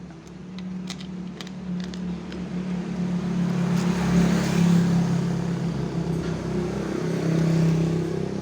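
Small petrol engine of an agricultural sprayer machine running steadily at idle, a continuous close drone with a low hum that rises slightly partway through, no voices.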